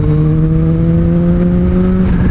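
A 2024 Kawasaki ZH2 motorcycle, rated at 197 hp, accelerates hard with a loud, close engine whine that climbs steadily in pitch over a few seconds, no talking.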